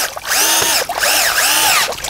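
A power drill drives stainless steel screws beside a garden pond, its motor whirring close and loud in two or three rising and falling bursts, with no voices.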